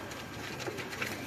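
Red-eyed pigeons in a Lahore loft coo softly in a brief stretch, the low burbling calls set against steady background noise.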